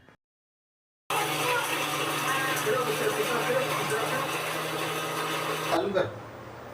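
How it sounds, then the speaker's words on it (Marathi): A mixer grinder whirs loudly as it grinds roasted coconut to a fine paste, a steady high motor whine that starts abruptly after a brief silence and cuts off near the end. "आता हे खोबरं अगोदर वाटून घेते एकदम बारीक वाटून घ्यायचं आहे"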